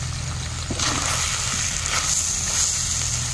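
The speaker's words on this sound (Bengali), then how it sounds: "উপর দিয়ে কিছুটা জল দিয়ে দেব।" Water splashes into a hot pan of cooking Bengali chicken rosolla, setting off a swell of hissing sizzle and bubbling that stays loud and steady afterward.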